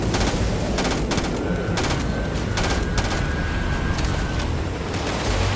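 Gunfire in the video game Starfield: repeated bursts of rapid shots over a constant loud layer of combat noise, with a faint tone running through the middle.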